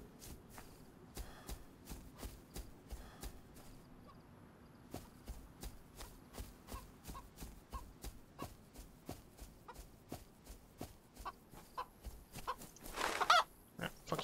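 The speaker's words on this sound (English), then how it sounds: "I hear a chicken." A chicken in the survival video game DayZ clucks quietly and repeatedly at a distance in a steady, pecking rhythm, with soft footsteps nearby and no talking.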